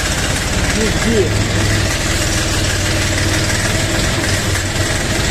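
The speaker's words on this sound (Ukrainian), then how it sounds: "от зовсім міняється звук двигуна, коли е, він в роботі" A YUTA 244SX mini tractor engine runs close by under load with a steady, rhythmic chug that stays constant throughout.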